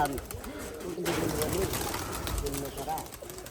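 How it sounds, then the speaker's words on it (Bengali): Repeated throaty coos from pigeons gathered on a rooftop and tin roofs, close and fairly loud, overlapping in a continuous burbling chorus under a voice. "কবুতর এখানে অতিথি কবুতরগুলো এসে বসে"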